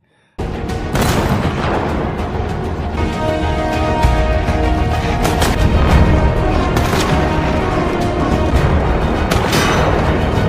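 Heavy gunfire and booming blasts in a World War I film scene, dense and continuous for about ten seconds, loud and close with sharp cracks over a rumbling low roar and no speech.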